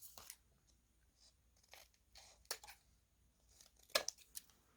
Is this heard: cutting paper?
yes